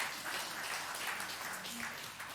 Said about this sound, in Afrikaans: Ek wil sê vir die Here wonderlike hande klap.